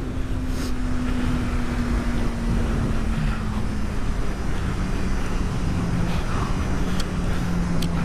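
A motorcycle engine drones steadily with a low exhaust note, its pitch sliding slowly, amid wind rush and road noise on a late-night ride.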